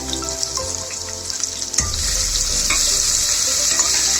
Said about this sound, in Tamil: கொஞ்சோண்டு ஜீரகம், கொஞ்சோண்டு சோம்பு, வெங்காயத்தை போட்டு நல்லா வதக்கிக்கணும்